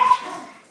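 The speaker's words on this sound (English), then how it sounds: "Oh, I heard the hound bark." A single short hound bark rings out, fairly loud and tonal, then trails off quickly into silence.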